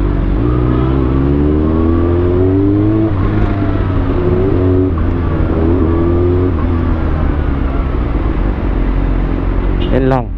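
Steady road traffic hums and rumbles around a motorcycle on a short ride, with engine revs rising and falling and a constant loud wind-and-engine roar.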